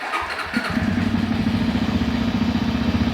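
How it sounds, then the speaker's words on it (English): A Janus Halcyon 450 motorcycle fired up with the electric starter: a brief starter whir, then the single engine catches and settles into a steady, loud, close idle. "And the bike should start right up."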